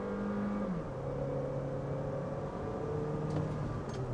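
A Jeep Renegade 1.3 Turbo launches from a standstill, engine note climbing and shifting as it accelerates, a steady close drone with rising tones and a brief change in pitch early on.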